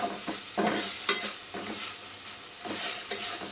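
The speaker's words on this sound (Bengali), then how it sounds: "আমার মশলা কষানো হয়ে গেছে এই যে অনেক বেশ ভালোই কষাইলাম" Spice masala for a village-style fish curry sizzles in oil, and a spoon scrapes it around the pan in short, uneven bursts over a continuous hiss, close and moderately loud.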